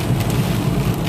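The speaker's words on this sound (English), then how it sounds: "It's been raining like this like all morning." Heavy rain pours down steadily at midday, a dense, constant broadband hiss with no breaks, close and fairly loud, with no voices over it.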